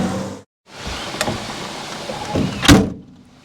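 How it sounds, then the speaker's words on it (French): A Rolls-Royce car door swings and shuts with a solid thud near the end, preceded by brief mechanical rustling and a faint click. "faut pas hésiter à claquer les portes"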